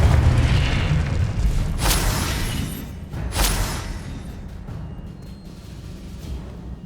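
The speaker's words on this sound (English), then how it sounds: "Confringo!" A Confringo blast spell explodes in Hogwarts Legacy as two deep booming bursts a second or so apart, followed by a rumbling, crackling decay under a low ambient roar.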